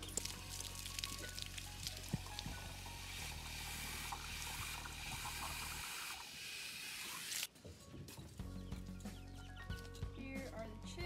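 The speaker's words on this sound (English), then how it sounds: "their water needs to be cleaned out and refilled" Water is poured to refill a waterer for young chicks, a steady splashing stream heard amid faint clucking and peeping, cutting off abruptly near the end before quieter movement noises.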